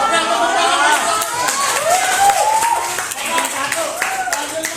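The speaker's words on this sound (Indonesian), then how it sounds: "Oke, tepuk tangan." A classroom group of students claps after a presentation, with brisk, close clapping mixed with chatter and young voices calling out throughout.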